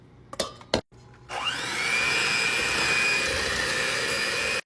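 An electric mixer beats pumpkin cake batter, starting after a few bumps with a steady, loud motor whir and high whine that holds evenly to the end.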